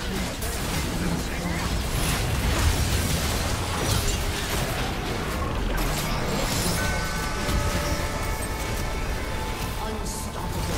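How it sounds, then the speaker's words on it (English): A turret is destroyed in a League of Legends match, heard as a dense, sustained burst of explosive game effects, crackles and mechanical clatter layered with constant in-game sound at steady loudness. "Blue team's turret has been destroyed"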